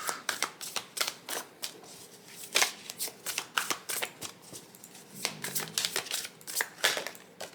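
Tarot cards shuffled and drawn by hand in a reading: a long run of crisp, rapid riffling snaps and slaps, close and fairly loud, in irregular bursts with no talk.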